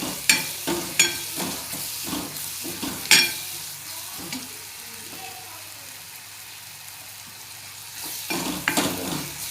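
Soybean keema with potato, cauliflower and tomatoes sautéed in a pan, heard as bursts of scraping spatula strokes over a quiet sizzle, a calmer stretch of gentle frying in the middle, then more stirring.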